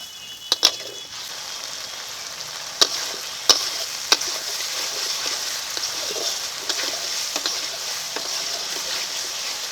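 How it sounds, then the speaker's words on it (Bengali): Spice paste with turmeric powder and grinding-stone rinse water is fried and stirred in a pan for a fish curry, a continuous moderate sizzle broken by several sharp utensil clicks and scrapes near the start and middle, no voices. "এখন মশলাটাকে ভালো করে কষিয়ে নেবো"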